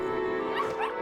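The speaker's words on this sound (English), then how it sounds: "Oh, stray dog." A stray dog in the RuneScape video game gives a short, yipping bark over steady game background sound, brief and close.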